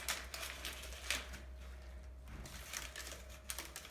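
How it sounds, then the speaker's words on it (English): A blade scores across a Caprizo plaster wall finish, giving a run of short, close scraping and ticking strokes over a steady low hum, with a brief pause near the middle. "So, I'm going to cut this across here real quick."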